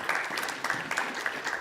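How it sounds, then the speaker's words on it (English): Audience applause breaks out at an evening conference on e-health chatbots as a doctor is welcomed onstage, a short burst of clapping with uneven bright claps and no talk over it. "Je vous demande de l'applaudir bien fort."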